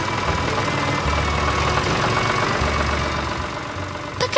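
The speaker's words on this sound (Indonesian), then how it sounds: "Dan lihat, traktor hijau datang menjemput hasil panen." A green tractor arriving to collect a harvest runs with a steady, loud, rumbling engine drone that holds throughout, with slight knocking and vibration and no talking.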